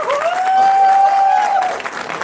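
Audience applause at a trailer launch event for the film Goodbye, a brief burst of clapping from a crowd, mixed with a sustained tonal feedback-like whine.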